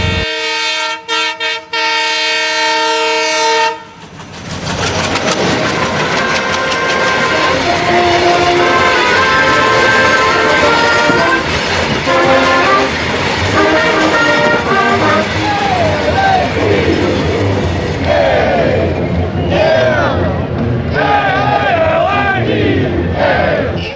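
A train horn blares loudly, then a train roars past at close range on tracks beside an apartment complex in Tuscaloosa, Alabama, its wheels clattering and screeching, with a crowd shouting over the noise.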